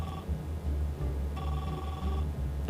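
A telephone rings during a call, its bell sounding in repeated bursts with short pauses, fairly loud and close, with no talk over it.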